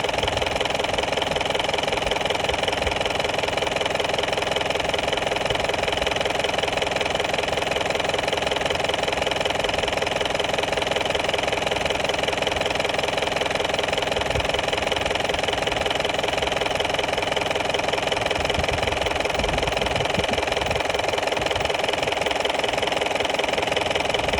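A 2.2 litre engine idles steadily on a camper vehicle, a continuous low mechanical hum with faint knocking texture running unbroken throughout, close and fairly loud with no talk.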